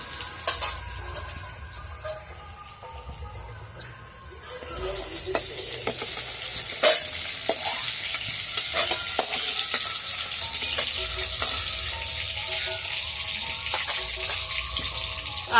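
Potato pieces frying in hot oil in a pan, a steady crackling sizzle with occasional clinks of a utensil, close and continuous, being lifted out as they finish, with no talking.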